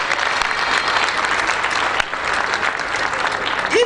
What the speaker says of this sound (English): Can we clap our hands for that?